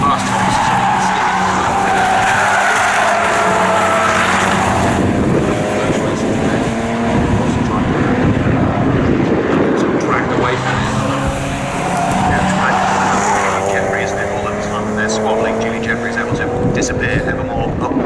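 Race cars, including a BMW Z3, roar past at Snetterton circuit with layered engine notes rising and falling and tyres squealing, loud and continuous under a commentator's steady talk.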